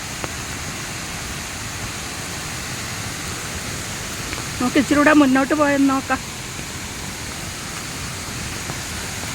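Mun Pilav waterfall in heavy rain, a steady broad roar of rushing water and rainfall filling the scene, with a person speaking briefly over it midway.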